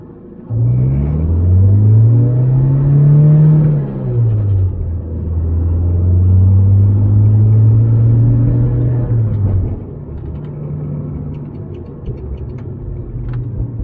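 A 1988 Toyota AW11 MR2 Supercharged accelerates in first gear, its engine rising and falling through two strong pulls, then settling into a lower, steadier rumble, loud and close.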